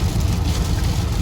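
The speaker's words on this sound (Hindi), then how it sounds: "अब ड्राइव में बारिश भी स्टार्ट हो गई है तो बहुत ही अच्छा लग रहा है, ऐसे हल्की हल्की बारिश हो रही है" Light rain patters on a moving car, blending with road rumble and wind in a continuous, fairly loud wash with no voices.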